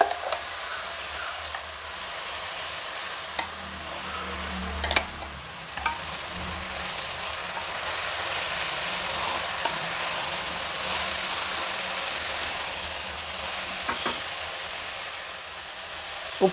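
Ground masala sizzles and fries in a pan for fresh pea pulao, a steady loud sizzle with occasional scrape and stir knocks running throughout.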